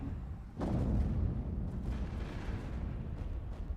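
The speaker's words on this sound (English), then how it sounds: "One barrage of your mega cannons, or your fucking... yeah, the big ones." A heavy barrage of mega cannons firing on ships in the space strategy game Stellaris, a deep rumbling boom that erupts suddenly and rolls on as a sustained low thunder with scattered later impacts.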